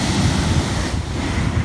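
Sea waves along the Chorrillos seafront in Lima, a continuous broad surf roar with wind buffeting the microphone, steady and fairly loud with no voices.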